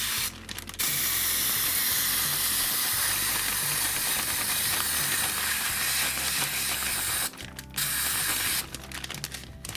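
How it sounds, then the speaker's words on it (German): A spray bottle spraying dye onto sand inside a plastic bag, giving a loud, close, continuous hiss that stops briefly twice, near the start and again near the end. "sprüht jetzt hier einfach auf den Sand drauf."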